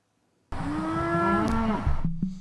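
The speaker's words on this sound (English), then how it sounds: "Yes, these are cows on the screen." Cows mooing on a North Carolina property, a loud, drawn-out low moo close by followed by a few short thumps and rustles.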